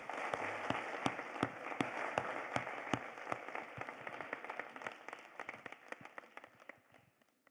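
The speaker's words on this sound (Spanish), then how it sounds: "Un fuerte aplauso," Applause from an audience at a theology biennial event in Mexico City, dense clapping with sharp individual claps standing out, holding steady then gradually thinning and fading out toward the end.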